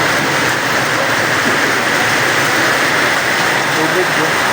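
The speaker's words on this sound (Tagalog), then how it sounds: "Oy, bumuhos na ulit." Heavy monsoon rain pours down steadily during seasonal flooding near a river pumping station, a dense, loud, continuous hiss that never lets up.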